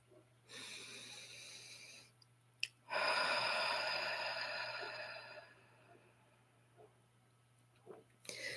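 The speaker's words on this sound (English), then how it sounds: "Let's take a deep breath in and a long exhale out." A deep breath drawn in through the nose and then a long, slow exhale are close and soft, followed by a quieter trailing breath and a brief rustle near the end.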